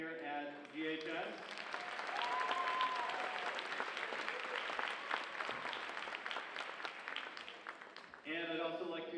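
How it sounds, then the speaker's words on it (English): Audience at a high school pops concert applauding the custodial staff, a sustained round of clapping lasting several seconds, framed by someone speaking over a microphone at the start and end. "a big round of applause for our awesome custodial staff here at GHS"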